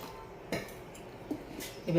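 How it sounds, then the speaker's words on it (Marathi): A spoon clinks against a bowl while stirring batter made from sprouted mixed grains, producing a few light, spaced taps and scrapes, fairly quiet and close. "आता असं एकसारखं फिरवत राहायचंय"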